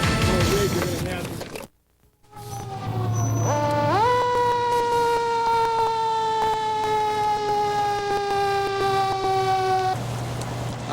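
Fire truck siren wailing up and then holding a long steady tone, loud and near, over a low engine rumble, with some talk at the start.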